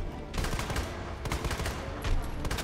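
Rapid gunfire from the player's weapon in Resident Evil 2 Remake, several close, loud bursts of shots in quick succession that fill the whole clip with only brief gaps between volleys.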